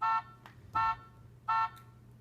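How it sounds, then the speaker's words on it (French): An anti-theft alarm from an Android tablet sounds in three short, evenly spaced tonal blasts, fairly quiet, over a low background hum. "l'alarme se déclenche."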